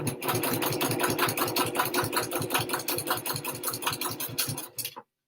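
A sewing machine back-stitching a fabric wristlet, running in a steady rapid mechanical chatter close by for about five seconds before stopping abruptly.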